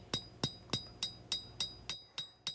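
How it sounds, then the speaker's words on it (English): Hammer forging a distal taper into a hand-forged skinner knife blade on an anvil: nine evenly spaced, ringing metallic strikes, close and steady, each with a bright chime. "Now we're going to hammer in a little distal taper and stretch the handle out just a little longer."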